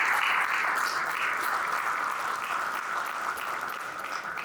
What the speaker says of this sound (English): Can we get some applause for Tim and Jamie and the team